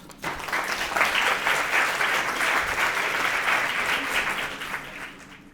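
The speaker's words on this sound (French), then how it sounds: "Un tonnerre d'applaudissements pour notre duel de dessinateurs." Sustained audience applause at a high school eloquence contest in France, a steady dense clatter of many hands that starts abruptly and fades near the end.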